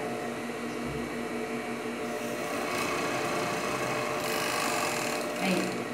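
An overlock sewing machine stitching the seams of high-waisted panties runs in a steady, continuous whirring hum close by, with a faint voice at times.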